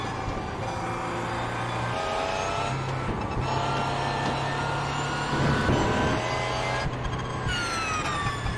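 Race car engines in the iRacing sim at Spa, a steady loud drone with shifting pitch as cars pass close by, no talk over it.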